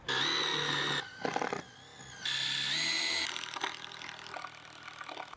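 Power drill boring a hole into plywood for a home climbing wall, heard close and fairly quiet, with a whining motor in two bursts separated by a brief stop and rattle, then fading into softer grinding.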